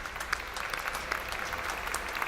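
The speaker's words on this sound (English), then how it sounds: "I want to give the volunteers of the Palace Theater and LCTV a round of applause" Theater audience at the Palace Theater clapping together, a dense, even burst of applause that fills the whole short stretch at moderate loudness.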